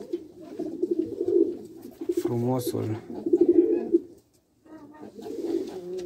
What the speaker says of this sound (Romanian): porumbei albi, voiajori